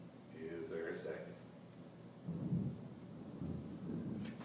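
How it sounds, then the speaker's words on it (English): Thunder rolls outside a county commission meeting room as low, rumbling swells that rise and fall over several seconds, heard indoors and faintly beneath the room's murmur. "Thank you for the thunder."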